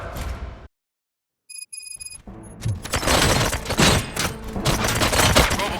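Bursts of gunfire in the video game RoboCop: Rogue City crackle and rattle loudly after a brief silence, with sharp electronic tones and dense, chaotic noise filling the rest of the clip.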